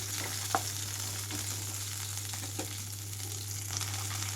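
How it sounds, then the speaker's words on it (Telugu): Green chillies fry in a pan of oil for a coconut sesame chutney, a steady close sizzle with occasional soft scrapes of stirring and a constant low hum beneath. "పచ్చిమిరపకాయలు వేగే వరకు ఇలాగే ఉంచి కలుపుకుంటూ ఉండండి"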